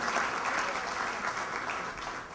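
Steady, dense applause from a conference audience thanking sponsors, a broad continuous wash of many hands clapping at fairly close range with no voices over it.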